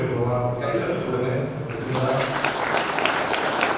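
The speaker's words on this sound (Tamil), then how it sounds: "கைத்தட்டு கொடுங்க" Church congregation at a feast-day Mass clapping in a Carmel Mother shrine; loose, scattered applause rises under someone speaking, growing busier in the second half.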